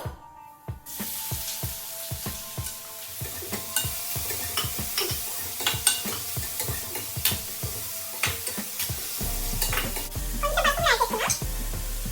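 Onions fry with eggs and garlic chili powder in a pan, a continuous close sizzle under frequent clattering stirs and scrapes of a spoon, with a brief hiss of spattering near the end.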